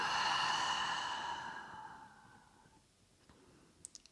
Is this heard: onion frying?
no